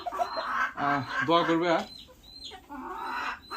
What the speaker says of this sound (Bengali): খুবই মায়াবী একটা মুরগি